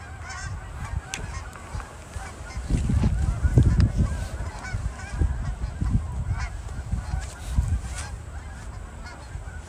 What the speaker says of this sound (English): A lot of geese going by now.